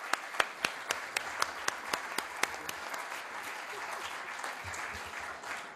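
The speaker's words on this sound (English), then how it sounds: "A round of applause for our excellent speakers and panelists." An audience at a panel discussion on financing new buildings claps for the speakers and panelists. Sharp, individual claps open the applause, then it settles into a softer, dense patter that fades out.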